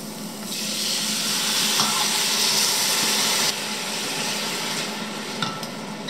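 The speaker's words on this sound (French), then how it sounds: "On laisse légèrement torréfier la farine 5-10 secondes et on met aussitôt le vin blanc" Flour toasts briefly in a hot pan before white wine goes in for a traditional onion soup, giving a loud burst of sizzling hiss with stirring scrapes that eases into a softer, steady simmer.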